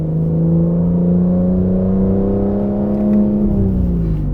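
A 2025 Aston Martin Vanquish V12 engine revs steadily with a loud, smooth, harmonic drone, its pitch climbing slightly and then easing back near the end, heard up close and alone.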